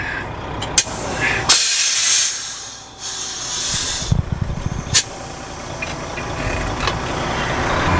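The air brakes of a truck release with loud bursts of hissing air, then a steady spray-like hiss with an engine rumbling underneath.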